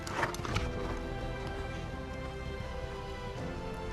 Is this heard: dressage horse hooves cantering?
yes